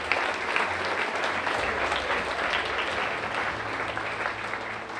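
A crowd at a spring athletic awards ceremony applauds the OVAC championship boys tennis team, with a dense, steady wash of clapping that holds evenly for about five seconds.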